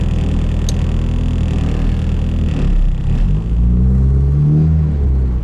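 A K24-swapped Nissan Cefiro accelerating on the road, its engine drone climbing in pitch as it pulls, with a steady heavy rumble heard close from the cabin and no talking.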